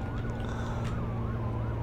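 A wailing ambulance siren from the emergency-services game Emergency Rescue: Liberty County, sweeping steadily up and down, loud and close, running continuously on its own.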